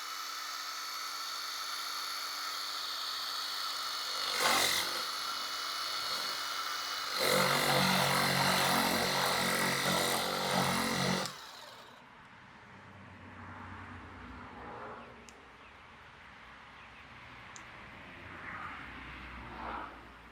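A Kobalt 24V cordless pressure washer whines loudly and steadily, then surges louder for a few seconds before cutting off, leaving a quieter stretch with faint clicks and handling noises.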